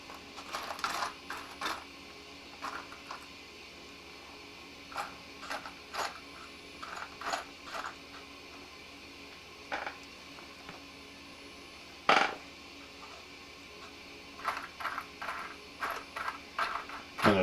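Hands rummaging through a box of small toy wheels, producing scattered bright clicks and clattering rattles in irregular bursts separated by quiet pauses, close and fairly faint with no talking.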